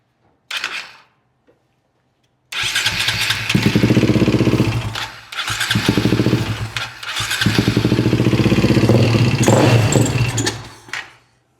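A KTM 525 motorcycle being worked on for a no-run problem with a suspect carburetor: a brief failed attempt, then the engine fires and runs loudly and close by, rising and dipping with throttle before cutting off.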